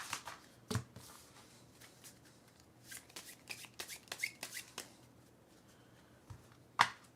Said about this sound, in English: We're just gonna do the magic corner shuffle.